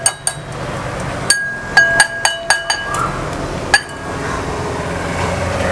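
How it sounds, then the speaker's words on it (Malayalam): Spoon clinking against the side of a bowl while tomato sauce is stirred into pizza muffin batter, a quick run of sharp, bright taps close by with quieter scraping between them and no talk. "ചേർത്ത് കൊടുത്തിട്ട് നന്നായിട്ടൊന്ന് മിക്സ് ചെയ്യാം"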